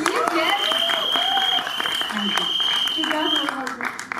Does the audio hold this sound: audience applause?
yes